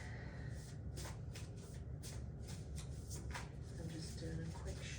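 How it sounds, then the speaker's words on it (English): Sacred Creator Oracle cards being given a quick shuffle, soft papery riffling and slapping in rapid bursts close by, over a steady low background hum, with no talk during it. "I'm just doing a quick shuffle."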